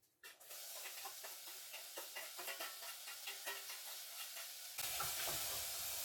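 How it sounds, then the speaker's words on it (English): Finely chopped onion sizzles and hisses in a hot pan as it starts to caramelize, with a steady fry broken by regular stirring scrapes and a louder burst of hiss near the end. "you're going to be adding that chopped up onion, and you're going to start to caramelize it"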